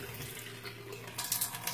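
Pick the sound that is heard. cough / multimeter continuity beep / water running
water running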